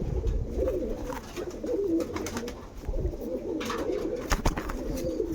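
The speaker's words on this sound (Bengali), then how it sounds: "সব ধরনেরই কবুতর আছে" Many kinds of domestic pigeons coo together close by, a steady layered throaty murmur with occasional sharp flutters or clatters mixed in, and no one speaking.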